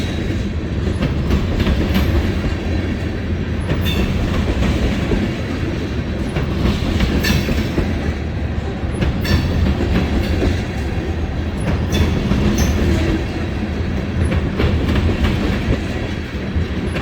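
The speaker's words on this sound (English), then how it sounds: "You can feel the ground rumble from the weight of these cars going by." BNSF freight train cars roll past nearby in a loud, continuous rumble, wheels clacking rhythmically over the rail joints, with no one speaking.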